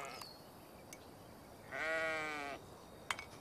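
A cartoon sheep lets out a single wavering bleat of about a second, clear over faint background ambience, with soft clicks before and after.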